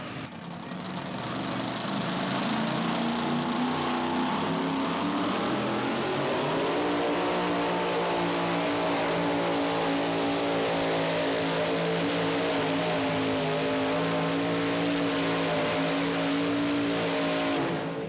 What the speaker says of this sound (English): another one-of-a-kind pulling vehicle, the Dollar Devil 2